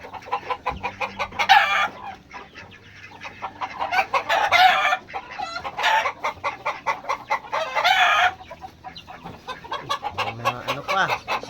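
Chickens clucking and a rooster crowing at a relative's farm, a dense chorus of clucks with repeated loud crows cutting through, near and continuous.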